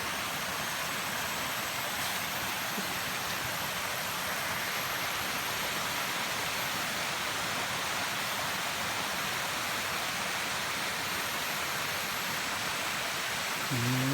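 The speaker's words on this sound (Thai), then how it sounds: "มาดูน้ำตกกันนี่" A waterfall in a durian orchard gives a constant, broadband rush of falling water, steady and fairly loud throughout with no voices.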